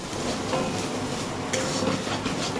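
A spatula scrapes and stirs minced loitta fish drying in a hot pan, a continuous close gritty rasp with faint sizzling and a couple of sharper scrapes.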